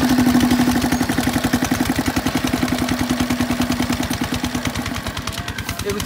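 A motorcycle engine runs steadily nearby, its rapid, evenly spaced firing pulses forming a loud chugging putter that holds a constant pace throughout, with a faint hum riding on top.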